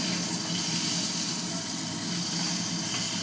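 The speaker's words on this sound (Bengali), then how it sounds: "এবার আমি আলুটাকে ভেজে তুলে নেব" Potatoes fry in hot oil in a pan for a fish curry, giving a loud, steady sizzle and hiss that fills the whole moment without a break.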